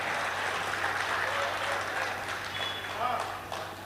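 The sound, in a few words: audience applauding loudly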